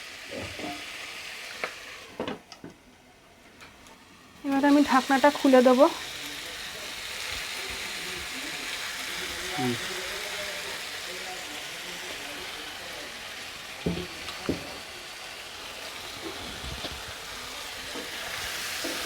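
Cauliflower fries in a covered pan, giving a soft, steady sizzle. A lid is lifted partway through, bringing a brief louder burst of crackling, and a person speaks over the frying.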